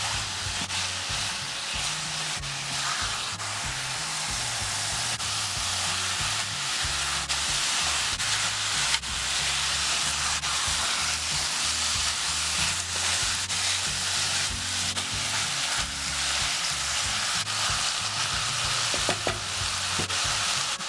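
Dry-rubbed marinated mutton frying in a pressure cooker, a steady continuous sizzle with broad hiss and occasional stirring clatter, loud and close, no talk.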